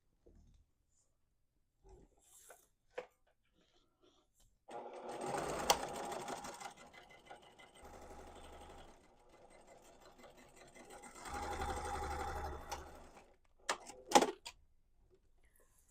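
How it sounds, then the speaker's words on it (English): A sewing machine runs in two long bursts of steady rapid stitching along an apron seam, close and fairly quiet, with scattered clicks and handling noises in the pauses between. "you're going to sew it at a 1/2 inch seam allowance all the way around"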